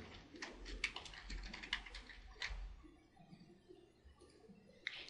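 Keys tapped on a computer keyboard while entering a name in a data software dialog, a quick run of light clicks, close and fairly faint, easing off partway through and returning at the end.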